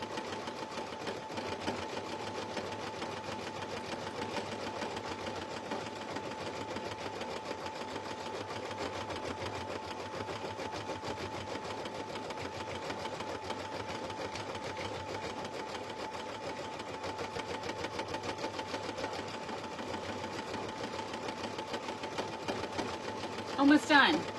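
An embroidery machine stitching an in-the-hoop slap bracelet, a steady rapid mechanical hum and needle chatter running continuously at close range, with a person talking over it at times.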